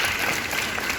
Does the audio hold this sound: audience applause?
yes